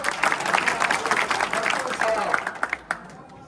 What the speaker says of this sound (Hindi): इनके लिए एक बार जोरदार तालियां बजाएं